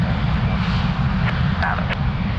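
Steady low engine rumble of a jet airliner taxiing at Lisbon Airport, a continuous droning hum heard from some distance, with faint brief sounds over it and no clear talk.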